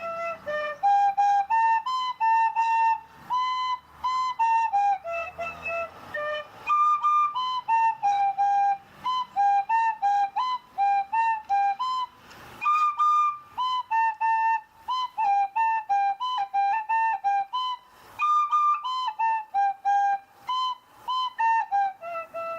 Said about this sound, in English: I like to play a tune on my tin whistle,